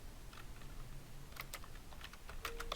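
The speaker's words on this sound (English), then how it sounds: "Under this, you're going to type in" A computer keyboard clicks as a server address is typed, quiet, irregular keystrokes clustering into quick runs toward the end, with no speech.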